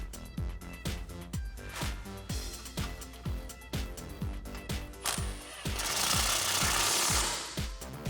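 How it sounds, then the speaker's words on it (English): A ratchet with a 10mm socket tightens brake line bolts on a Jeep Wrangler JK axle, giving a rapid series of sharp metallic clicks in regular bursts, close and fairly quiet, with a brief hissy rustle near the end. "thread those back in, tighten those up with a 10mm socket"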